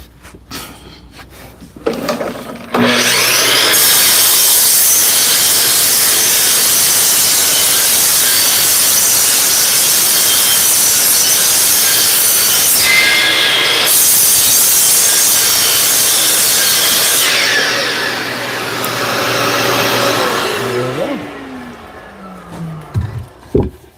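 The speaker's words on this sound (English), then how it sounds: "I can go straight to my miter saw and rough everything out" Miter saw crosscutting rough ash lumber in a workshop, a loud steady high whine with rasping cut noise for about eighteen seconds, briefly dipping mid-cut, then spinning down to a stop.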